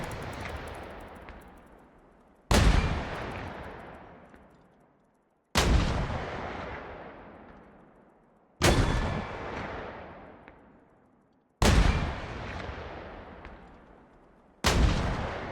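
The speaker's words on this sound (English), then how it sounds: "So we're going to fire a few rounds here." Artillery rounds firing in the video game Squad, high-explosive shells going off as five loud, booming shots roughly three seconds apart, each trailing into a long decaying rumble, with no talk.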